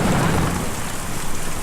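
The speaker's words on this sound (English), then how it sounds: "Difficult to see or even hear a storm like that" Heavy rain pours steadily through a thunderstorm in the video game Kentucky Route Zero, with low rumbling thunder rolling beneath the dense, continuous hiss.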